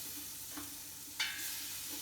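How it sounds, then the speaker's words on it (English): Quiet sizzling of bacon frying in a pan, with a brief scrape or stir partway through. "Get my bacon frying?"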